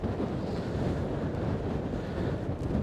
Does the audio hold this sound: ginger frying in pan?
no